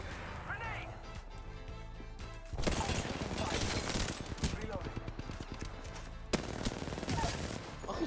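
Rapid gunfire in the shooter video game Apex Legends, loud sustained bursts of automatic shots that break off briefly and resume, with excited players talking over the shooting.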